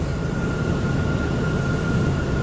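An R179 subway car on the F local line, riding from Coney Island toward Jamaica–179th Street, rumbles steadily from inside with a constant motor whine and no breaks in the noise.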